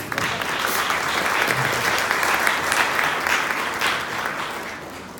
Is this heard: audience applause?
yes